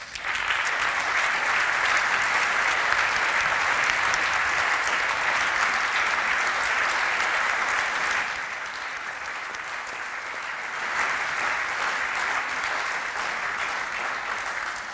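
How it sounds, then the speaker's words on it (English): Audience applause closes a talk on quantum technology at a Leibinger Begegnungen event, a dense, loud, sustained clapping from a large crowd that dips slightly partway through and carries on. "This is your applause."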